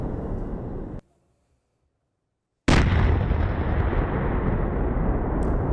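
A cafe explosion in St. Petersburg: after a stretch of near silence comes one sudden, loud, close blast, followed by a sustained roaring rumble that stays loud to the end.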